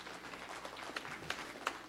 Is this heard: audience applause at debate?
yes